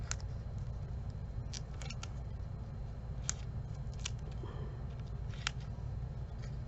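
Scissors snipping through paper for a paper craft card, a series of faint, irregular sharp cuts close by over a quiet room hiss, no talking.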